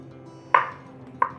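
A kitchen knife slices bananas diagonally into bite-size pieces, two short, crisp cuts about half a second apart, close and fairly quiet with no talking.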